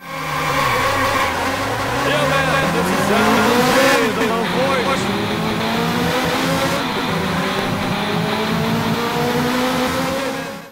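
A Ferrari F355 race car in the Sega game F355 Challenge revs hard through the gears, its engine pitch climbing and shifting, with tire squeals, loud and constant throughout.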